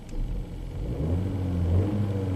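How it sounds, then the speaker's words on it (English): A Chevy Cruze that runs rough and rich being revved, a low steady engine rumble that swells slightly and stays fairly quiet and close throughout. "I'm revving the engine right now"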